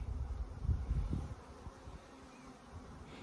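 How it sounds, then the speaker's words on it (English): Honey bees buzzing around hives placed in a buckwheat field, a close, continuous insect drone with a few louder fly-bys early on, heard alone without talk. "I'm quietly pleased that these bees are doing all right."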